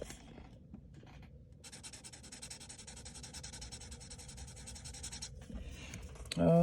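A Spectrum Noir Classique bullet-nib marker scratches across a planner page in one faint, steady stroke of a few seconds, close up and quiet, with a brief bump at the end.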